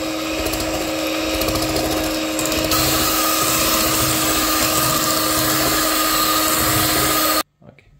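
An electric mixer steadily beats eggs into chocolate cake batter, a loud continuous whirring drone with a slight shift in pitch partway through, cutting off abruptly near the end.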